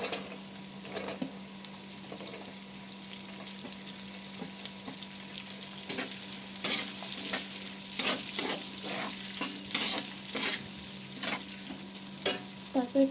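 Onions frying in oil in a pan for chili chicken, a steady close sizzle with scattered crackles and pops, occasional stirring scrapes, no voices.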